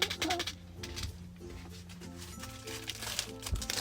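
Paper handled for card making crinkles and rustles in soft, irregular bursts, faint and close, with no talking.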